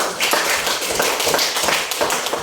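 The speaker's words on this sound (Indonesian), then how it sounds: "Kita kasih tepuk tangan buat kalian, Gabriel sama Putri." Dense applause and clapping fill the whole stretch, steady and fairly loud with no voices over it.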